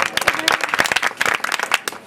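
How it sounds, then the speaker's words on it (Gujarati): Crowd applause at a Ramdev temple event in Vavda honoring a donation, a short burst of dense, loud clapping from many hands, close and continuous throughout. "એમને જોરદાર તાળીઓથી વધારી દો"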